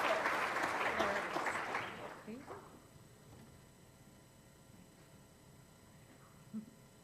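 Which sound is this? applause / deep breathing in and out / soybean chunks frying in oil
applause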